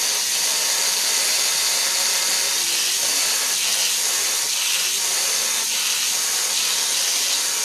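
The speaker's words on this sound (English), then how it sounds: "I can ream that out with that 1/8 inch bit" A drill with a 1/8 inch bit reams out an antler knife handle, giving a continuous bright, hissy grinding whir that holds steady and close throughout with no pauses.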